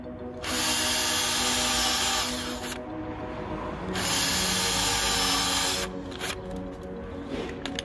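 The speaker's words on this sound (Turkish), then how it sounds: "İşaretlediğim yerden birkaç tane matkabınız varsa matkapla şöyle birkaç tane delik verin." A power drill boring several holes into soft car trim material during cruise control installation on a Renault Megane 2, two long whining bursts of drilling up close, separated by a brief pause, with a shorter burst trailing at the end.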